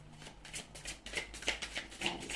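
A deck of oracle cards shuffled by hand, with a steady run of soft riffling bursts and papery flicks, fairly quiet and close, with no talk over it.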